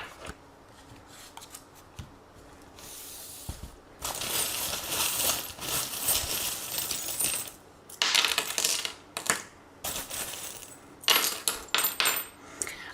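Small metal divination charms being tossed and jangling, with bursts of bright metallic clinking and rattling in several rounds, close and moderately loud.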